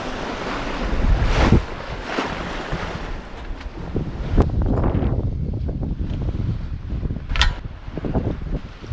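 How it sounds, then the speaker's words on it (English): Building ocean waves on a solo open-sea sailing passage in the Indian Ocean, heard as surging wash and splashes against the hull mixed with gusting wind noise, rising and falling in loud bursts. "The waves are building."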